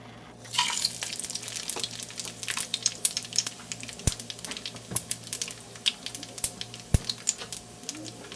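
Whole spices, including mace, bay leaf, cumin, black pepper, cinnamon, green cardamom and cloves, crackling in half a cup of hot oil for chana pulao: a close, busy sizzle with sharp, irregular pops and spits.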